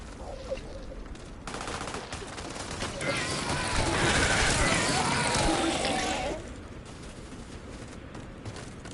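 Enemies shooting in the video game Starfield, a swelling wash of rapid gunfire that peaks in the middle and then drops away, with a voice talking over it.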